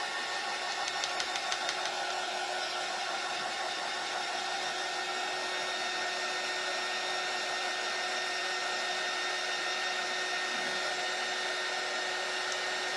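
A dryer blows steadily on freshly painted hop stand craft kit pieces, a constant loud whooshing whine with no pauses, heard up close and alone for the full stretch.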